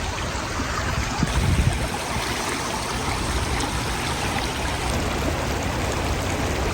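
Lukewarm spring water flows steadily and close by along the Ruta de las Flores near Ataco, El Salvador, a continuous broadband rush with a brief low gurgle early on and no talking.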